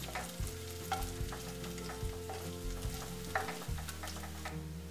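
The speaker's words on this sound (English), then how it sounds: "we would add the garlic and the coconut. And saute it for a few seconds." Garlic and coconut sautéing in oil with spluttering mustard and cumin seeds, a steady sizzle under repeated scraping stirs close by, with a low musical backing and no talking.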